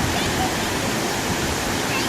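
Rushing water of Athirappilly waterfall, a steady loud broadband roar filling the whole clip without a break, close and continuous.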